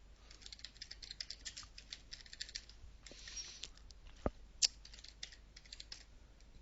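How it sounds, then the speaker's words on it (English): Quiet, close computer keyboard typing while filling in a form, irregular key clicks with a few louder taps standing out, no voices. "I'm going to type that in now"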